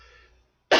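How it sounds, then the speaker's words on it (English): A single loud, close cough from someone recovering from a cold breaks out abruptly after a faint trailing voice and a short silence. "I am sorry about this cough, but I'm getting over this cold"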